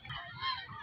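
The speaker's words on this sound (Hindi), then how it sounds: "ये बतखें वगैरह घूम रही है यहाँ पे।" Ducks honk and quack faintly in a park, a brief run of soft, repeated calls at a distance with no talk over them.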